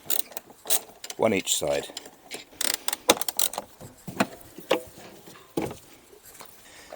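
Bolts or screws are being undone on the rear body panel of a 2008 Smart Fortwo 451, giving quiet intermittent ratcheting clicks and metallic taps up close, with a few brief spoken words.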